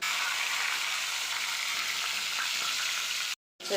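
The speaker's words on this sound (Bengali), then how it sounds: "তেল গরম হয়ে গেছে আমি এটা ভাজতে দিয়ে দেবো" Fish head frying in hot oil in a wok, a steady, loud crackling sizzle that holds without a break until a sudden brief silence near the end, then resumes.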